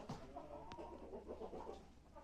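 Chickens clucking inside a coop with laying nests, a small flock including a couple of old hens, continuous low chatter close by with no talk.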